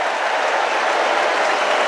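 A stadium crowd at an AFL match between Brisbane and Port Adelaide roars steadily, a dense, continuous wash of cheering and noise with no breaks, as spectators urge on the driver.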